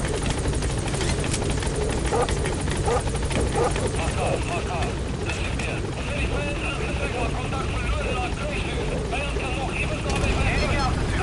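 The Pequod helicopter in Metal Gear Solid V thuds steadily with a rotor chop and engine whine throughout, loud and continuous, while a radio voice talks over it.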